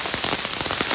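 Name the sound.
rain falling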